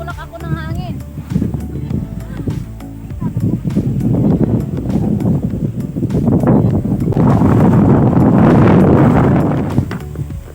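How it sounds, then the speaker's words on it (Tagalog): Loud, gusty wind buffets the microphone on the Apao Rolling Hills in Tineg, Abra, building to a heavy roaring rush near the end, with brief talk early on. "Tinutulak ako ng hangin."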